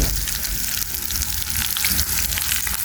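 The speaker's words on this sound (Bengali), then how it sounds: "এই যে সেই মাছ ভাজা" Fish pieces fry in hot oil in a pan, a loud, dense, continuous sizzle heard up close for a few seconds with no speech over it.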